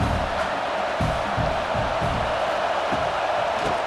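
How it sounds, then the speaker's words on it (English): A stadium crowd in EA Sports College Football 26 roars in a steady, loud wash of cheering with no break. "This crowd knows when to bring it."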